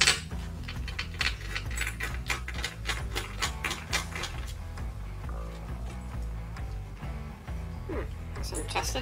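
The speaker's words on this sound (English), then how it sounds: "So basically, take these screws out, see what's behind here." A screwdriver works screws out of an aluminium heatsink on a cool box, giving rapid metallic ratcheting clicks and small rattles, close and steady, with someone talking over parts of it.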